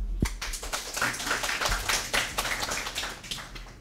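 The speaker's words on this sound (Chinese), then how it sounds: "那我们以掌声来欢迎演讲" An audience claps to welcome a speaker at a tech talk, a moderate patter of hands with uneven taps from nearby clappers, fairly quiet and with no voice over it.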